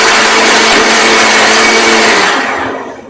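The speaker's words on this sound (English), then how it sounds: "the blender grinds everything, including the skin and pulp" A blender grinds fruit with its skin and pulp in a loud, steady whir that holds constant before quickly fading out at the end.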